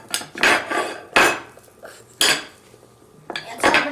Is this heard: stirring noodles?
yes